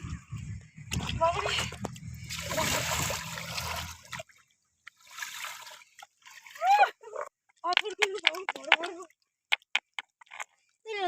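Bathers splash and slosh in the cold water of a river, with louder churning at first and then scattered splashes among excited voices.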